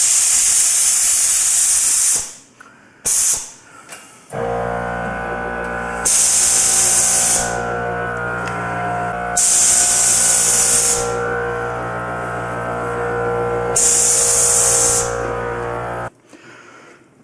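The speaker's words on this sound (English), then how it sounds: "So I have the bike all the way aired down so you can see what that looks like." Air suspension on a 2024 Harley Davidson Touring motorcycle deflating: loud, sharp hissing releases of air in repeated bursts, with a steady mechanical hum running beneath them.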